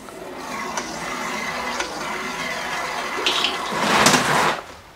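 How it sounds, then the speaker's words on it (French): Water runs from a newly installed multilayer plumbing outlet fed by a manifold, a steady hiss and splash that swells louder near the end with no talk. "Hop, ça coule, c'est bon, on a bien de l'eau là."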